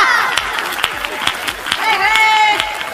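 An audience at a Hindi comedy poetry show bursts into scattered clapping that thickens into steady applause, with a performer's voice speaking over it.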